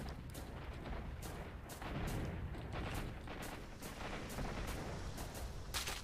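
Dense, continuous gunfire and explosive bursts from a firefight in the video game S.T.A.L.K.E.R., with repeated sharp shots layered over a steady rumbling din, loud and unbroken throughout.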